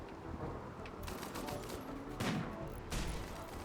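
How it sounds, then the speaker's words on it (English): LMG machine gun fire in the video game Rimworld, heard as faint, rapid bursts of gunfire over a steady background, with a few sharper shots standing out. "But I think Stroll can have an LMG main weapon."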